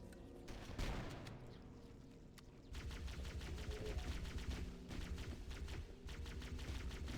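Rapid automatic gunfire from Halo: Combat Evolved on Legendary difficulty, dense overlapping bursts that rattle on almost without pause, loud and close with a brief lull near the start.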